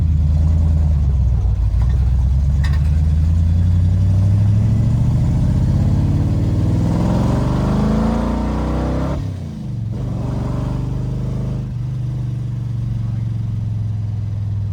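1968 Dodge Coronet driven on the road, its mid-range engine rising steadily through a long pull, then dropping sharply with a brief lull before settling into a lower cruising drone, close and loud.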